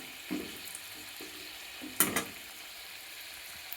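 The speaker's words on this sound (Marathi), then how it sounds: "म्हणजे छान असे खरपूस तळल्या जाते. बघा कसे टम फुगायला लागलेले." Modak dumplings deep-frying in hot oil, a steady low sizzle with a couple of brief louder bubbling bursts as the oil is stirred, close and alone with no voices.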